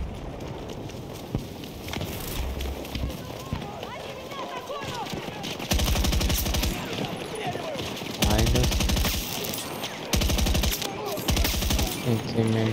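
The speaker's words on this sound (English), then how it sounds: "I just got a double kill shooting through the smoke" RPK-74M light machine gun firing in Battlefield 2042, loud sustained automatic bursts that start and stop several times over battlefield noise, with a voice talking earlier.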